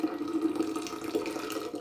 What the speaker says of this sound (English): So first I take some boiling hot water and I pour that into